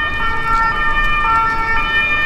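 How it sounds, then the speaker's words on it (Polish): Police siren in a Paris street during a disturbance, a steady wailing tone sounding continuously and fairly loud over dense traffic and city noise, with no voices over it. "Jedzie następna policja."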